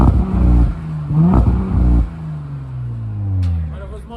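Audi RS5 engine blipped in short revs up to a 4000 rpm limiter, rising and falling rasps close by with voices talking over and between them.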